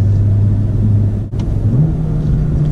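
A BMW M2 or M4 engine hums and rumbles up close, dipping briefly before rising again in pitch as it revs, with no talking.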